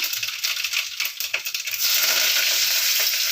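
Mustard seeds and curry leaves crackle and sputter in hot oil, tempered for an egg curry, a bright spattering sizzle with scattered pops that swells into a steady dense hiss partway through.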